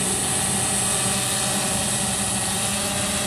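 A DJI S900 hexacopter drone flies carrying a heavy payload of about 14 pounds beneath it, its rotors giving off a constant, dense, whining roar that stays even and close throughout.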